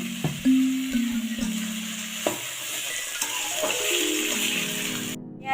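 Onion and garlic fry in a pan for a Bengali chicken curry with potatoes, a continuous sizzle punctuated by several spoon taps and scraping stirs, ending with a short clatter.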